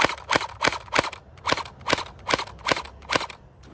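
Gel blaster firing gel balls at a target about 25 feet away, a series of eight sharp, evenly spaced snapping shots with short gaps between, fairly close and moderately loud.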